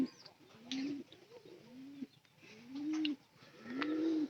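An old pigeon coos close by in repeated soft, rolling phrases, about five in a row with short gaps between them, and faint background sounds.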